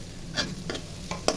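Chopped garlic and onion fry in a pan, a low sizzle under three or four quick spatula strokes scraping the metal, the last one sharpest.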